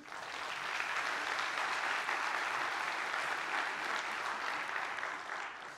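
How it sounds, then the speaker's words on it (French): An audience applauds a speaker at a talk, a dense, even wash of clapping that holds steady at moderate loudness for several seconds before tapering slightly at the end, with no voices over it. "Est-ce que vous pouvez l'applaudir, s'il vous plaît?"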